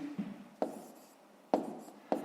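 A pen or pencil writing down a maths answer on paper, a faint scratching with three sharper taps or strokes spaced out in a quiet room.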